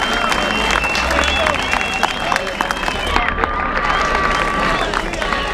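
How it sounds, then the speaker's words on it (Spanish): Crowd at a freestyle rap battle clapping and cheering in a loud, continuous roar, with shouting voices mixed throughout. "Fuerte el aplauso"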